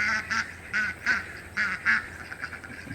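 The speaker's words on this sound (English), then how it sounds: "Can you hear these ducks carrying on like a pork chop?" A few ducks quack in quick bursts, three loud pairs of calls then fainter ones, close by with quiet background.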